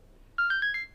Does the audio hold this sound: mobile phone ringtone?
yes